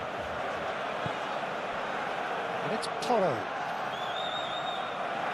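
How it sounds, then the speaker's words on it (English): Simulated stadium crowd in a football video game of Arsenal versus Tottenham in the Premier League, a steady roar of fans swelling briefly under continuous commentary. "the crowd are reacting to that now"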